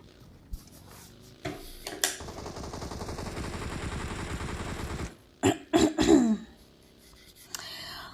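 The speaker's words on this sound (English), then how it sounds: "I'm trying to clear my throat with some hot water, but yeah, it's not going as planned" A person coughing and clearing their throat, a scratchy sustained rasp early on followed by a cluster of sharp, close coughs and a final brief clearing.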